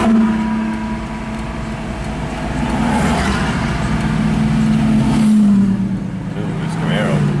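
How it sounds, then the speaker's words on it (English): A Chevrolet Camaro hot rod's engine rumbles and rises in pitch as it revs, fairly close, while a person talks over it. "Ooh, it's Camaro. Sweet hot rod."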